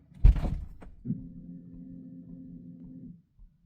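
A door swings open with a sharp thump and brief rattle, then a steady low mechanical hum, likely a pump priming, drones for about two seconds before cutting off.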